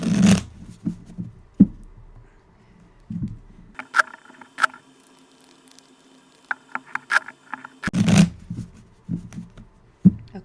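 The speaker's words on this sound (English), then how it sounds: "Let's give it a shuffle and do a reading." Tarot cards are shuffled by hand in quick riffling bursts with soft papery patter and taps between them. The sound is close and fairly quiet, with no talking.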